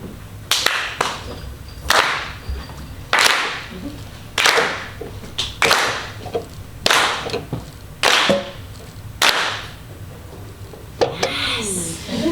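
An audience practices clapping along, producing about ten sharp, loud, evenly spaced group claps, with a voice speaking between them and at the end.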